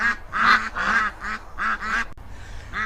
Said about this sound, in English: the best way that I know to stop the ducks going into their little meltdown and being quite so noisy